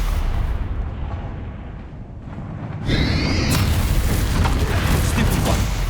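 Spell casting in the video game Hogwarts Legacy: a muffled rumbling lull, then at about three seconds a sudden bright magical whoosh and impact burst that sustains with a loud, crackling roar to the end.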